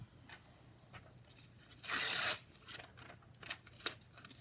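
A page is torn out of an old op-shop book of punctuation rules: one sharp, loud rip stands out midway between soft paper rustles and handling sounds nearby.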